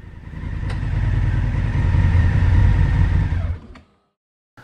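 A motorcycle rides in through the green gate of an old rectory in Michelsberg, Romania, its engine a close, steady throb that builds slightly, then cuts off abruptly, followed by a brief clunk.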